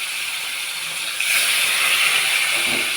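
Chicken fries in a pan with a loud, steady hissing sizzle that swells slightly partway through.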